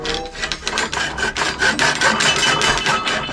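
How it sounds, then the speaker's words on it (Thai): An aluminium tube for a dart gun barrel is cut by hand, with loud, close, rhythmic rasping strokes repeating steadily. "ต่อไปก็จะเป็นการตัดลำกล้องครับ"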